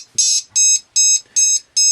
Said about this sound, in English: it'll beep the buzzer and it'll flash the LED